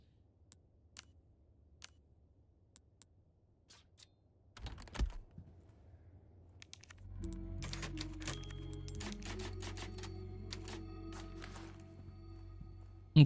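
A typewriter save point in Resident Evil 4 Remake: sparse, faint clicks and keystroke ticks at first, then a thump, then a denser flurry of clacking over a low hum that builds toward the end.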